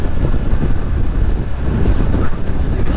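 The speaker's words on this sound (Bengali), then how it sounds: "ও ঠান্ডা, প্রচুর ঠান্ডা বাতাস।" Strong cold wind buffets the microphone during a road trip near Narail, Bangladesh, a loud, continuous low rumbling roar with no break.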